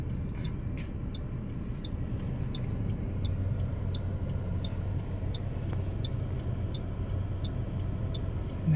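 Steady low road and engine rumble inside a moving car, with a quick, regular ticking running through the whole stretch and no talking.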